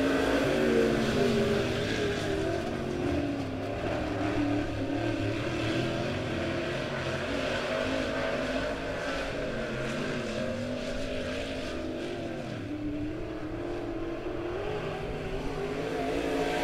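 Race cars run a lap at Bolivar Speedway during a weekly racing round: a steady, loud wash of engine roar from the pack fills the whole stretch with no break and no voices.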